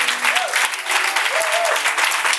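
A church congregation applauding in acclamation, loud and dense clapping that runs without a break, with brief voices calling out over it.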